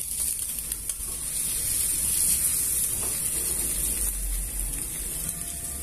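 Egg frying under a lid in a covered frying pan, a steady close sizzle and hiss that stays constant without pause.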